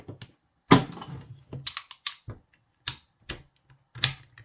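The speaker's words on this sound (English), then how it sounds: "You push the button, and then all you need to do to release the socket, press it and release it." The push-button release on a KATSU 1/2-inch socket set ratchet clicks repeatedly, sharp close mechanical snaps and ratchet ticks in irregular bursts separated by silence.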